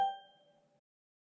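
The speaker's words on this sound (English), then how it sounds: "we will eventually hear this chime." A second-generation 2019 Google Nest Mini sounds its factory reset chime, a single clear bell-like ding that rings out and fades away in under a second, alone in silence.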